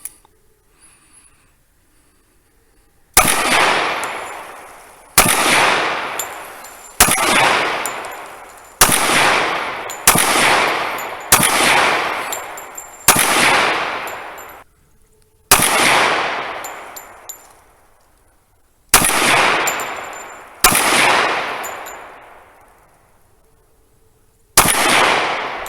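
A Ducks Unlimited Para 1911 pistol chambered in .45 ACP fires about eleven loud, sharp shots at an outdoor range, spaced roughly one to two seconds apart, each with a ringing echo that decays before the next.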